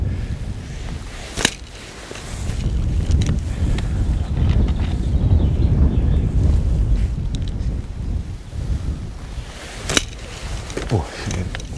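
Strong gusts of wind buffet the microphone beside a fishing lake at Hayfield Lakes, a loud, rumbling roar that swells and eases across the scene, with a few sharp knocks now and then.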